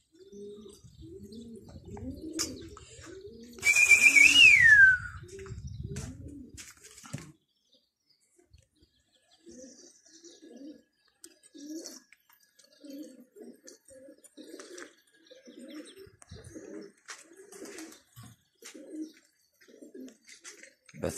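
Pigeons coo repeatedly in a coop, a soft, rhythmic run of low calls with scattered bird chirps, a brief burst of louder noise and wing flutter early on, and no talk.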